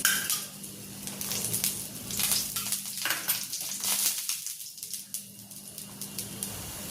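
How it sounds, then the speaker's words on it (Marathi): A moong-spinach dhirde pancake fries in oil on a gas stove over low heat, a soft steady sizzle under repeated light clinks and scrapes of a spatula against the pan. "आता याच पण साईडनं थोडंसं तेल सोडून भाजून घ्यायचं"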